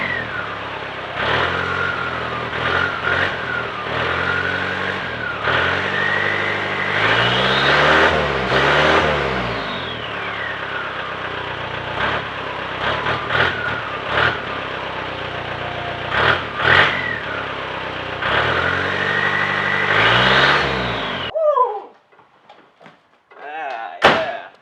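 A car engine with custom exhaust and intercooler piping revs repeatedly, rising and falling loudly and close for about twenty seconds before cutting off, followed by a few clunks.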